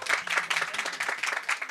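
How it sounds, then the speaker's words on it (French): A short burst of applause from a small quiz audience, many hands clapping quickly and steadily, fairly close. "On peut applaudir la réponse?"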